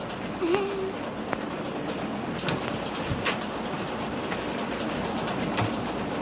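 Steady rumbling clatter of a train running on rails in a 1932 film, a continuous dense noise filling the whole stretch with faint scattered knocks and no clear talk over it.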